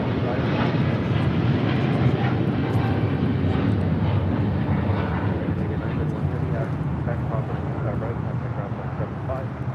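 A Philippine Airlines Boeing 777-300ER takes off at LAX bound for Manila, its engines a loud, steady broadband roar that fills the whole stretch without letup, with a few voices talking faintly beneath it.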